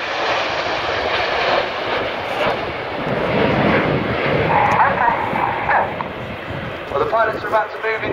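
Jet aircraft of an aerobatic display team roar past in formation over an air show, a loud sustained broadband engine rush that swells and fades, with a commentator talking over it throughout.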